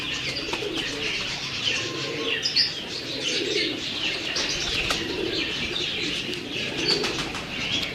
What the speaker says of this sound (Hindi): ये जी उस्ताद जी के घर के कबूतर हैं